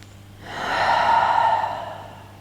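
A single deep yoga breath drawn in and let out through the nose, close and breathy. It swells to a broad airy rush, then fades over about two seconds.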